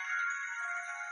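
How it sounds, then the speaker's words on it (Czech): A mobile phone ringtone sounds in a video game, a steady electronic ring held loud and alone for just over a second. "To je Víťovo mobil"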